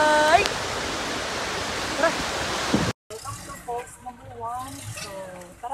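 Waterfall at Lake Sebu, a loud steady broadband roar of falling water for about three seconds, then it cuts off and quieter outdoor sounds with a voice follow.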